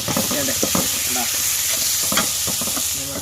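Steady loud sizzling of onions sautéing in a pan, cooked inside a lorry, with repeated scraping strokes of a spoon stirring through the food.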